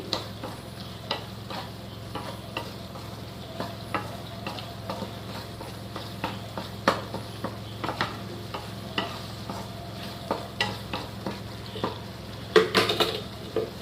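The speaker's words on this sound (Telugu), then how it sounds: "ఈ విధంగా మధ్య మధ్యలో కలుపుకుంటూ ఉండండి" A spoon scrapes and clinks repeatedly against a pan while ridge gourd curry sizzles steadily underneath as its water cooks off, with irregular stirring strokes and no voices.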